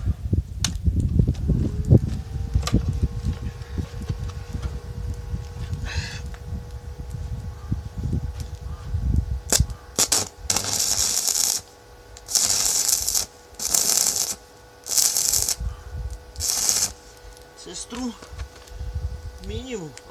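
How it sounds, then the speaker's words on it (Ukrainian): A Deca MOS 168 welder set near minimum current strikes a stick electrode arc, giving several short, harsh crackling bursts in the second half, after a stretch of talking and handling noises. "Зараз попробую поварити електродом."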